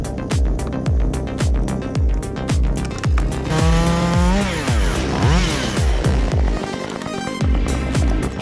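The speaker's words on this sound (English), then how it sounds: "a man takes on the forest with nothing but his chainsaw" A chainsaw roars loud and close while a man cuts timber high on a thick tree branch, with the engine revving up and down in rapid pulses and the pitch bending as the blade bites into the wood.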